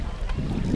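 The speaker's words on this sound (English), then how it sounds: "Discovery's three main engines are burning fuel at a rate that would drain an average swimming pool in about 25 seconds." Space Shuttle Discovery's three main engines and twin solid rocket boosters roar during the STS-133 launch, a dense, distant, buffeting low rumble with wind-like hiss that fills the whole moment.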